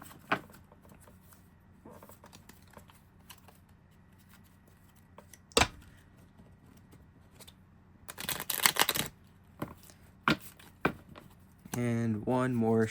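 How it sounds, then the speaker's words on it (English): A tarot card deck is shuffled by hand, with soft ruffling and riffling bursts, a few sharp snaps and taps, and a denser flurry of shuffling near the middle; quiet and close, with a person speaking briefly at the end. "And one more shuffle. I always like to shuffle it 3 times."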